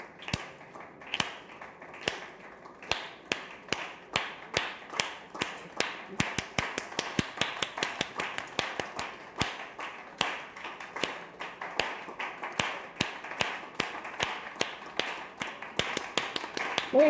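Workshop participants in a neuromodulation training session tap out their own rhythms, producing many sharp, overlapping taps and claps at uneven intervals that run continuously, moderately close, with a steady hum underneath.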